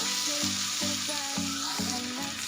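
Onion sautéing in a pan, a dense close sizzle with a few quick stirring strokes over a couple of seconds, no voices present.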